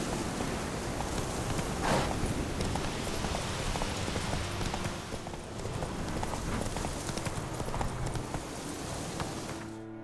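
Steady clip-clopping hooves of Roach, a horse in The Witcher 3, plod on continuously beneath a soft rain-like wash of ambient noise, with no pause throughout.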